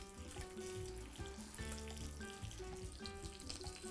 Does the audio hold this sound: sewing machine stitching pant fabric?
no